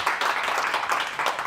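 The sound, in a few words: audience applause after a talk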